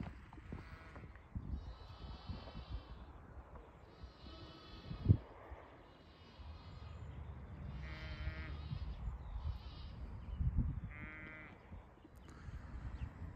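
Several sheep bleat at intervals, moderately near, beside a railway line on a countryside walk, over a low steady rumble of outdoor background noise, with one sharp thump midway.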